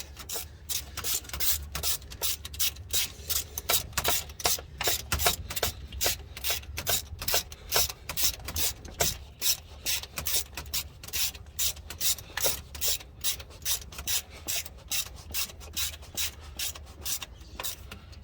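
Ratchet wrench tightening the rear starter motor bolt on a Toyota Tarago, a steady run of quick close clicks repeating throughout with no talk.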